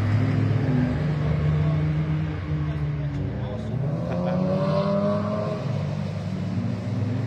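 A budget Honda Today race car drives past with a buzzy small engine whose pitch wavers and rises through gears, moderately loud, while someone talks over it.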